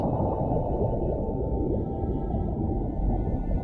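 A blue whale vocalizes underwater near its calf, a loud, steady low rumbling moan with a hollow, watery texture that holds without break throughout.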